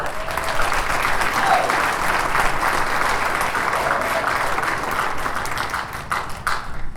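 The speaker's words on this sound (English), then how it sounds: "Give him a round of applause." Sustained audience applause fills an awards gala hall, dense steady clapping from a large crowd for about seven seconds, tapering slightly near the end.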